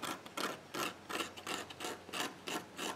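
A tool scrapes texture off a card collagraph print plate in steady, rhythmic back-and-forth rasping strokes, close and fairly loud, with no talking.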